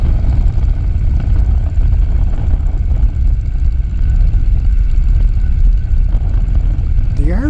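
Steady, loud engine drone of a Pietenpol light propeller airplane in flight, continuous broadband roar throughout, with a brief voice near the end.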